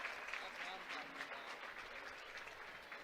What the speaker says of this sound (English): Give one more big round of applause from the Assumption faithful